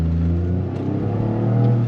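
A 2025 Toyota GR Corolla with an 8-speed automatic accelerates with a close, steady engine drone, its pitch holding and rising slightly through the short pull.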